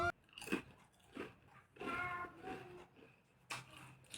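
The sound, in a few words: crunching potato chips while eating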